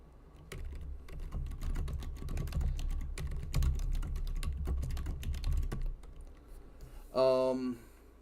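Rapid keystrokes on a computer keyboard clatter steadily and close by for several seconds, then stop as a short burst of voice comes in at the end.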